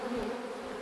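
Honey bees buzz around an open hive as a beekeeper works it, a steady close drone with a low hum running continuously without pause and no voices.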